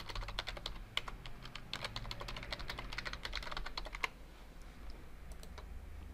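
Login details being typed on a computer keyboard, a steady run of soft, fairly close key taps in an uneven rhythm that thins out toward the end, with no one speaking.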